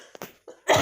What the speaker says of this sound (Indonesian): Maafin bunda lagi batuk.